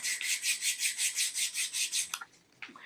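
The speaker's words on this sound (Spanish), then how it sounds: "utilizamos una pequeña lija de papel para darle un poquito más de forma" Steady back-and-forth rasping strokes of small sandpaper on a wooden arrow nock, about a dozen in quick rhythm, then a few light knocks.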